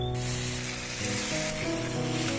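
Panch phoron, whole dried red chillies, onion and crushed garlic fry in hot oil, making a steady loud sizzle with no pauses and a bright hiss over a constant low hum.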